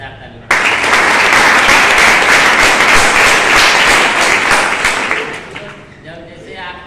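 An audience breaks into loud, sustained applause, a dense crowd of hands clapping together for several seconds before fading out toward the end.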